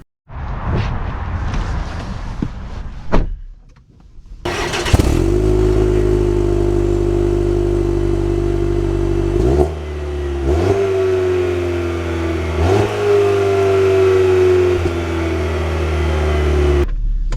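A 2025 Cadillac CT4-V with all-wheel drive pulling away hard, its engine revving loud and close with a rising note that drops briefly at each upshift before climbing again, steady and uninterrupted for most of the run.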